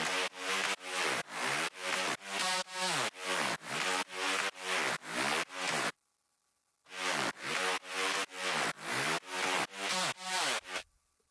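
A synth melody in FL Studio with pitch bend automation, built for a big room drop: loud repeated chopped notes in a steady rhythm, a brief silent gap midway, then the pattern resumes with no talking.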